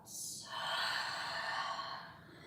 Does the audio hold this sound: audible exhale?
yes